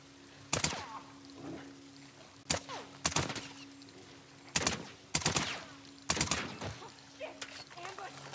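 Gunfire in the video game The Last of Us Part 2: several sharp shots in irregular bursts, loud and close, with a steady tone and game sounds beneath.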